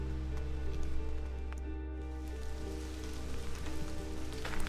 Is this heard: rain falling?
yes